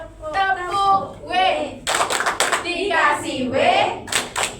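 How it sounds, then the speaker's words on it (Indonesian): Schoolchildren in an Indonesian micro-teaching class perform the Tepuk W clapping routine, young voices chanting in rhythm before several sharp, close hand-clap bursts break in among the singing. "Kita kasih tepuk W ya."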